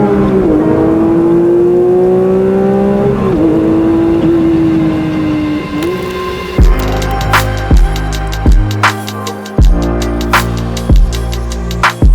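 A Porsche 911 GT3 engine drones and rises in pitch, then shifts into sharp repeated revs and gear changes, loud and close.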